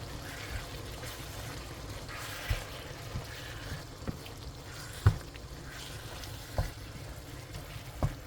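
Diced canned tomatoes are stirred into ground beef frying in a pan, with a steady soft sizzle broken by occasional wet scrapes and knocks of the spoon, close and quiet.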